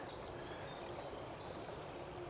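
Water escaping past an earth dam at the end of a pond into a stream, a faint, steady trickling rush heard alone without a break.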